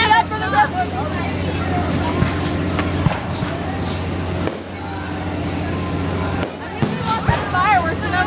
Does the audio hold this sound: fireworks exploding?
yes